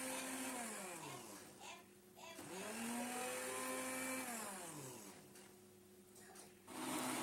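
An electric blender whirs loudly, chopping peppers with oil, its motor pitch rising and sagging as the load shifts, then surging again at the end.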